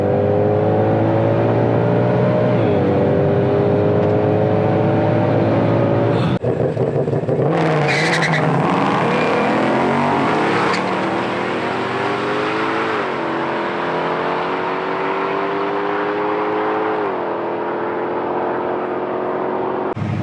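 A 2021 Ford Mustang GT500 makes a drag strip run: a loud, close engine climbs steadily in pitch through several gear changes, with a short sharp burst midway, then settles into a sustained high roar.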